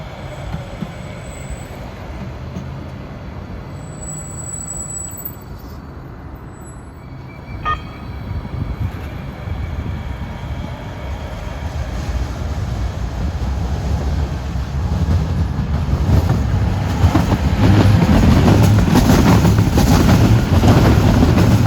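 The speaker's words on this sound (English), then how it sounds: "we got a train coming off the West Side Avenue line" A Hudson Bergen Light Rail train comes off the West Side Avenue line at a junction near Liberty State Park, its rumble building from faint to loud and close, with wheel squeal and a brief high tone partway through.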